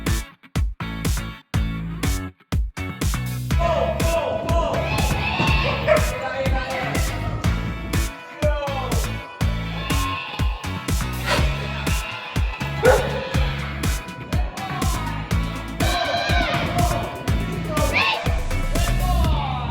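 Flyball sport dogs bark, yip and whimper continuously at a kennel, a dense, loud, overlapping chorus of many dogs close by, with a few people talking underneath.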